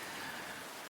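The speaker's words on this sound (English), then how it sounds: "The rain sounds during the pee break are quite amusing." Steady rain sound effect playing during a break in a livestream of Ecco the Dolphin on Sega CD, a dense continuous hiss that holds evenly for about a second before cutting off abruptly.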